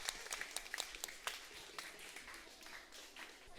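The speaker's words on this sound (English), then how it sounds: "Give them a big round of applause." An audience at a school quiz competition claps in a round of applause, a faint, distant patter of many hands forming a dense, steady rattle that gently fades out.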